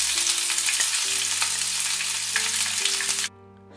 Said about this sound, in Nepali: प्याजलाई पनि त्यसरी नै चलाउँदै भुट्न पर्छ